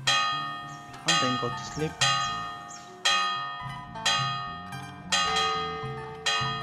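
Large church-style bell tolling in a medieval RPG, struck about every second with long ringing overtones that overlap and decay, loud and close, while someone speaks briefly beneath the chimes.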